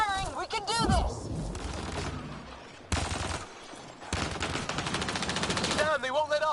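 Rapid bursts of sci-fi weapon fire in Mass Effect Andromeda, loud and sustained with short breaks, alongside warbling energy effects and voices shouting during combat.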